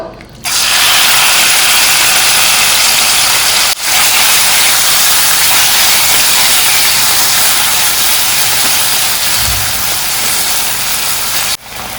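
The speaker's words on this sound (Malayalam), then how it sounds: "ഇനി ഓയിൽ ചൂടായതിനു ശേഷം 150 ഗ്രാം ബോൺലെസ് ചിക്കൻ നമുക്ക് ചേർക്കാം കേട്ടോ." Boneless chicken, about 150 grams, hits hot sunflower oil for chicken fried rice and sets off a loud, steady hiss of frying. The sizzle runs alone for the whole stretch, with brief dips near the start and end.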